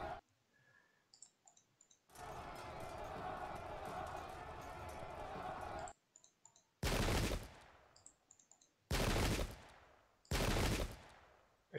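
Musket volleys crack out in Pike and Shot, several loud, broad bursts of massed gunfire in quick succession, following a longer sustained roar of battle noise and faint clicking.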